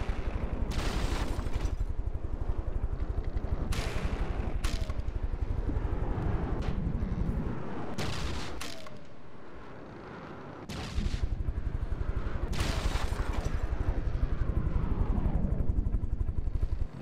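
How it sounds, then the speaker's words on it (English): Naval battle gunfire in the video game From The Depths, a steady dense barrage of distant cannon shots and rumbling impacts that dips briefly before resuming at full intensity. "We got shots going all the way through."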